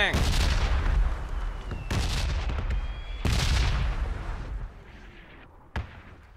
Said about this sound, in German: wo ich gerade hinten aim, da waren gerade Schüsse.